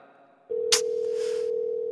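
An unanswered phone call rings back on the line, a steady electronic tone starting suddenly and holding continuously after a brief click, heard alone.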